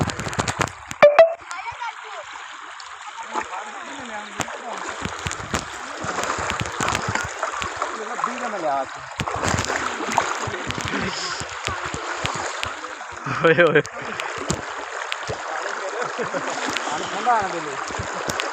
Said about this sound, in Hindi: तो आप देख सकते हैं पानी का बहाव कितना तेज़ है।